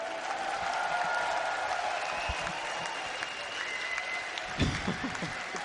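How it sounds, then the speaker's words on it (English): Steady applause from a large esports crowd at a StarCraft II semi-final at Gamescom fills the whole stretch, with scattered cheers and a brief louder burst near the end. "Give a round of applause for Nerchio!"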